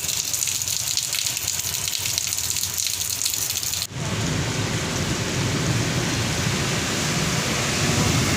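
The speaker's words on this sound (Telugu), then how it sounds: "నిన్న సాయంత్రం జిల్లాలో పలుచోట్ల ఎదురుగాలతో కూడిన వర్షాలు పడ్డాయి." Heavy rain with thunder and gusting wind during a pre-monsoon storm in Vizianagaram district, Andhra Pradesh. A steady loud downpour roars throughout, growing denser and fuller partway through, with no voices.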